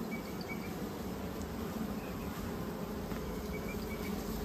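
A dense, steady buzzing of many honeybees fills the whole stretch, close and continuous with no pauses.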